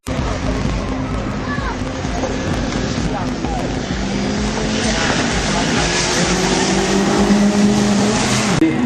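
Race cars including a BMW roaring past at the Grand Run race event, a loud continuous engine drone with rising and falling passes, accompanied by talk over the noise.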